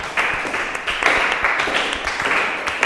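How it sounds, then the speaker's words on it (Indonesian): Classroom applause for students at an Islamic senior high school, a group clapping steadily and fairly loud with uneven bursts of claps for about three seconds. "Tepuk tangan buat kalian untuk kalian semua."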